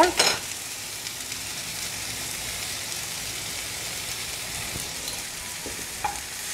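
Mint leaves with tomato and salt sautéing in a pan for mint chutney, a steady sizzle throughout after a brief louder burst at the start, with no talking.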